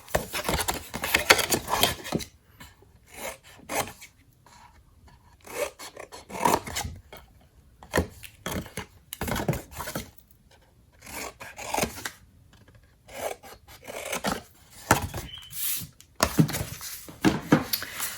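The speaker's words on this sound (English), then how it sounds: "Now we want to trim these 2 tabs." Paper tabs on a craft project being trimmed, heard as bursts of rasping, scraping cuts close by, separated by short pauses across the whole stretch, with no talking.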